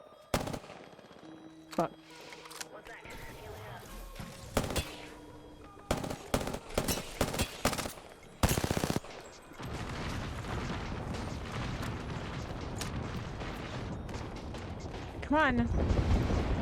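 Gunfire from a fast-paced shooter video game fighting demons, with bursts of rapid automatic fire and single heavy shots, loud and close, mixed with a player's cursing.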